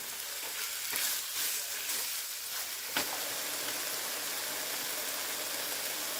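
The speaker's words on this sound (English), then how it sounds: "I'll cook the turkey down until it is fully cooked" Ground turkey fries in a pan for stuffed bell pepper filling, giving a steady, bright sizzle broken by a few soft stirring scrapes and one sharper knock near the middle.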